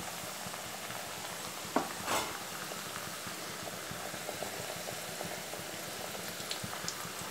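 Salem thattu vadai frying in oil, a soft continuous crackle and bubbling heard close and fairly quiet, with a couple of brief clinks early on.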